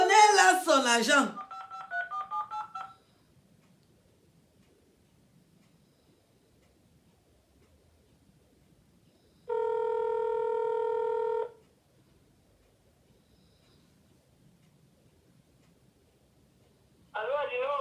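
A telephone being dialed for a call, a short tone sounding alone in a quiet room for about two seconds, followed later by another tone, after earlier brief speech.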